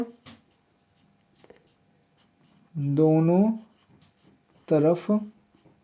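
Chalk or marker scratches and taps in short strokes on a board while math is worked out, faint and intermittent, with someone speaking in between.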